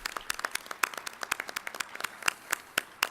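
An audience at a spring conference keynote applauds volunteers, with a dense stream of scattered hand claps, moderately loud and sustained throughout.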